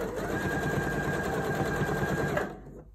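A Janome 230DC sewing machine stitches a zigzag in a steady, even whir for about two and a half seconds, then stops abruptly and goes quiet.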